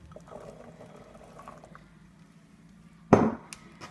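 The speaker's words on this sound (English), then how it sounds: "And then I'm going to put the chickpeas in." Chickpeas tipped into a crockpot of creamy vegetable curry land as one short, loud splashy burst near the end, after a few seconds of quiet kitchen background.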